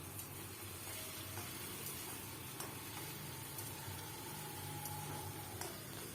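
Onions fry in a pan with ginger, garlic, tomato and green chili paste for a fish dish, giving a quiet, steady sizzle with faint scattered crackles and occasional clicks.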